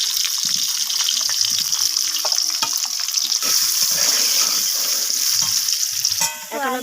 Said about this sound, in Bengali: এবার আমি ওই তেলের মধ্যে কেটে রাখা আলু দিয়ে দিচ্ছি